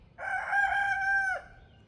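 A young backyard rooster, crowing for only about a week, gives a single clear cock-a-doodle-doo that rises, holds steady and then drops off, standing alone against a quiet background.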